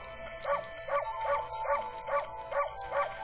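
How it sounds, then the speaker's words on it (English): A wolf barks in the video game Okami: seven short, evenly spaced yapping barks in a steady rhythm, clear and close, with no talking over them. "If I can bark in a game, I will do it."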